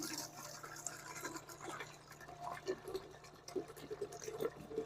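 Water being poured and filled into containers for backyard chickens outdoors, a steady liquid splashing and trickling at moderate distance with brief bursts of activity and faint scattered clucks.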